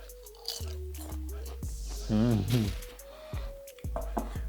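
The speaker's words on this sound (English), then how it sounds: "So these are super crispy, super crunchy." Crisp homemade kale chips being chewed up close, a busy run of brittle crunches and bites with a person talking over and between them.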